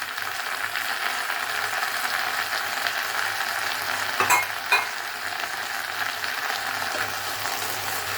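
Okra, onion and tomato sautéing in a pan for a bhindi masala curry, a steady close sizzle with a couple of clattering spoon strokes midway and no voices.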